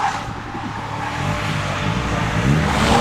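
A Dodge hot rod drift car engine roars continuously at close range, a loud, rough, low growl that rises and holds steady for three seconds.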